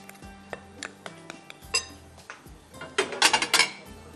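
Spoon clinks against a bowl as spices with black pepper and oregano are mixed for a baingan masala batter, a run of light metallic taps and scrapes that grows busier and louder toward the end.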